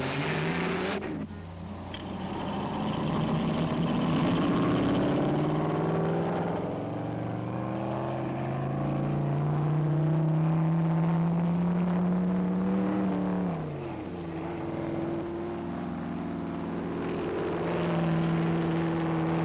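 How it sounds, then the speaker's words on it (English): A powerful racing car engine roars loud and continuous, its pitch climbing and dipping as it revs and passes. The land speed racing car Goldenrod, powered by four Chrysler engines, at the Bonneville Salt Flats. "They stuffed 4 Chrysler passenger car engines into this slender needle of a car they called"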